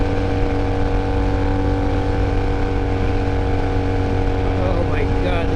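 A Honda Rebel 250 motorcycle roars continuously at close range while being ridden, its steady engine drone and wind rumble filling every moment without a break.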